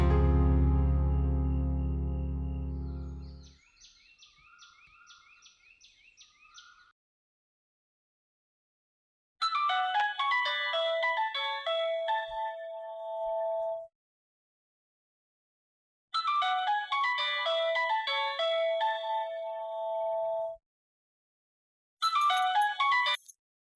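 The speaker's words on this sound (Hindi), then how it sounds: "बड़ी देर लगा दी फोन उठाने में" A mobile phone rings with a melodic electronic ringtone. It plays in three separate bursts a few seconds apart, loud and close, after a deep tonal swell and a quieter tinkling phrase at the start.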